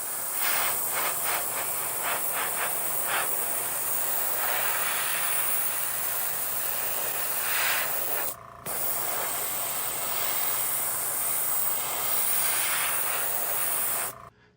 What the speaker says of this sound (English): I'm going to start by airbrushing my medium color on these panels.